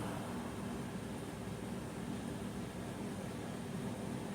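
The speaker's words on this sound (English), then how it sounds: "Can you hear me over the air conditioner? I've got them blasting on high." Several air conditioners blasting on high on a hot day, a steady, dense broadband whoosh with a low hum, continuous and even throughout with no talking.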